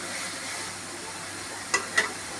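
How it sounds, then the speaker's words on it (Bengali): Food frying in a pan, a steady soft sizzle throughout with two brief scraping clicks of stirring near the end, alone and close. "ভালোভাবে নেড়ে চেড়ে দিতে হবে।"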